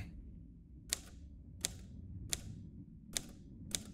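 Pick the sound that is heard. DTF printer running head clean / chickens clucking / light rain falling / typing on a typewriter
typing on a typewriter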